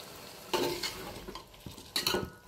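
Boiled chicken with mint is fried and stirred in a pan, with a burst of sizzling and clattering as a utensil scrapes the pan, a quieter sizzle, then another round of scraping stirs near the end.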